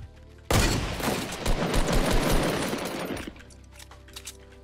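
A loud, close burst of rapid automatic gunfire in Fortnite starts abruptly and rattles on for nearly three seconds, then cuts off, followed by a few faint scattered shots.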